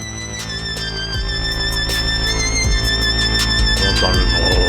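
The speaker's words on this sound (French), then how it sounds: "c'est un son de drone" A slow synthesizer drone built from free Oberheim, Monofury and Korg Trident plugins plays as an improvised piece, with sustained layered tones and rhythmic pulses swelling gradually and continuing without interruption.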